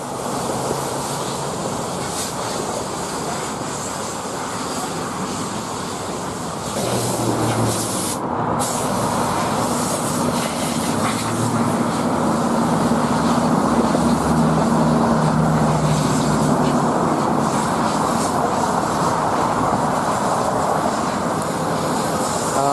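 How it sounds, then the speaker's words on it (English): A fixed-wing airplane passes overhead, its broad engine roar steady at first and swelling louder from about seven seconds onward, heard outdoors without talk. "let's see if we can get a second flyover where I'm standing"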